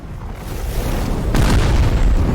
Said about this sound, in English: it's making the explosion sounds